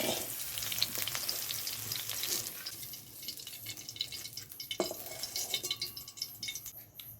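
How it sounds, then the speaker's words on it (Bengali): Paneer cubes sizzle and crackle as they are lightly fried in hot oil for a vegetarian dish, a close, continuous hiss with scattered pops and spatters throughout. "দুবারে আমি পনিরটা ভেজে নেব"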